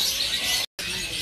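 Caged birds chirping in a busy stall at the Pramuka bird market in Jakarta, with bright tweets over a steady background din and a brief cut of silence midway.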